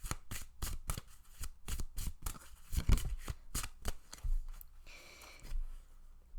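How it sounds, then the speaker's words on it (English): A deck of cards being shuffled up close, a rapid run of sharp riffling bursts in steady rhythm, followed by a softer rustle and a brief breathy pause. "wrong deck. I was shuffling."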